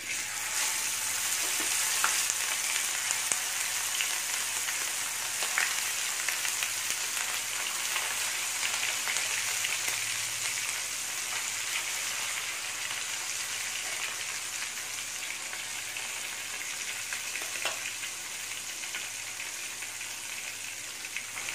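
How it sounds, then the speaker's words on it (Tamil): Sardines fry in hot sesame oil, a long, steady crackling sizzle with occasional sharper pops and faint stirring, heard up close with no talking. "எண்ணெய் சூடாயிருச்சு இதில் ஒரு ஒரு மீனாக எடுத்து"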